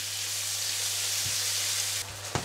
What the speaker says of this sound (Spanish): Vamos a cocinarlo hasta que el salmón cambie de color y se vaya deshaciendo